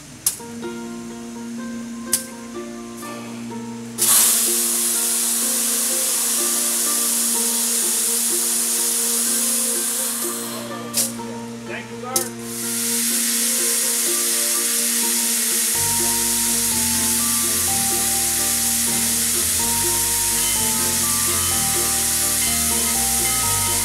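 Steam locomotive 4501, back in steam on its first move under its own power in 16 years, venting steam in a loud, continuous hiss with brief breaks and surges, over a steady low drone and shifting mechanical tones.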